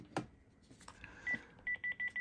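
Panasonic TGD series cordless phone handset, a TGDA99, giving a steady run of short electronic beeps, about four evenly spaced tones near the end after a couple of faint clicks, clear and close in a quiet room.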